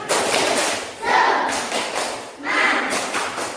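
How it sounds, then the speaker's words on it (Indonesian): Schoolchildren in a classroom perform a rhythmic group clapping chant, tepuk semangat, with loud, close bursts of clapping in a patterned rhythm alongside chanted voices. "sebelum mulai presentasi, tepuk semangat"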